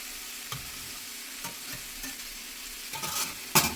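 Cheesesteak filling simmers in a Lodge cast iron pan, a soft steady sizzle with a few light stirring scrapes and clacks, growing busier and louder toward the end.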